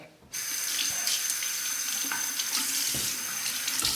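A faucet switches on abruptly and runs in a steady, loud stream into a sink to rinse a Parker 22R safety razor. Faint clinks from the razor sound under the hiss of the water.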